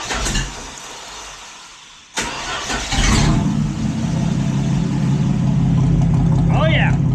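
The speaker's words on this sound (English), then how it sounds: "fire this thing up, see what it sounds like straight piped" A Slant 6 engine with straight-piped exhaust cranks briefly, catches and settles into a loud, raw, steady rumble that fills the rest of the clip.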